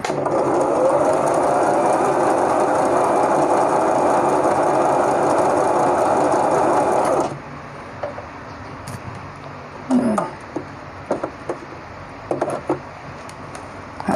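A Brother JV1400 domestic sewing machine stitches steadily at close range for about seven seconds, a continuous whirring run, then stops, leaving a quiet room with a few faint handling clicks and rustles.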